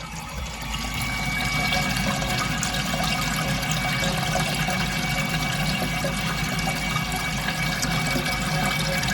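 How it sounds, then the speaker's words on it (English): Water rushes steadily through a strainer in a CTSV ice box cooling setup, a loud continuous hiss and gush with no break across the whole stretch. "You can see the flow going really"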